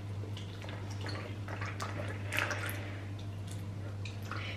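Slime activator being poured onto glue: soft, close wet squishing and dripping, fairly faint, over a steady low hum with no talking.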